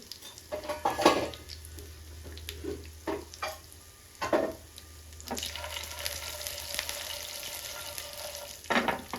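Peanuts, fenugreek seeds and urad dal fry in a pan with a low steady sizzle, broken by repeated stirring scrapes and taps on the pan, heard close.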